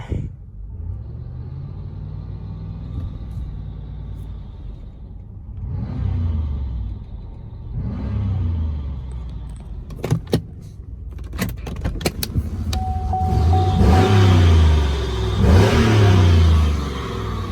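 A Chevrolet Impala SS engine idles and then pulls away, revving through gears as it drives around the block, with rumble and road noise building toward the end; a few clicks early on.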